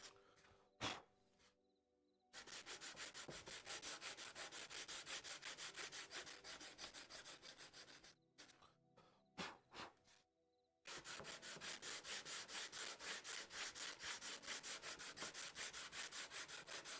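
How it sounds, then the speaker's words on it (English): A small handheld sander working a carved wood figure with long rapid buzzing passes, briefly pausing and restarting with a few short bursts before running steadily again, fairly quiet and close. "What do I got in my little sander?"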